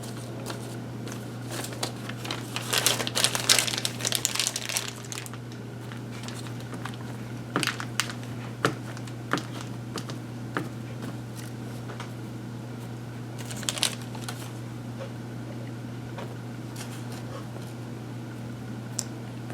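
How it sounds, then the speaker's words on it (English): Material being peeled away from Easter decor, heard close as crinkly, scratchy tearing in a busy burst early on, then quieter intermittent crackles and a second short burst later. "And then gently just peel it away."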